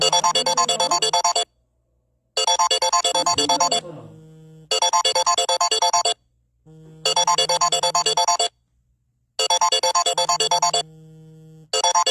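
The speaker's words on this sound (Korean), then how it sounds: "방송 위에 전화가 오면 참 암담하지요." A mobile phone rings over a live broadcast, its bright melodic ringtone sounding in about five loud bursts separated by short silent gaps.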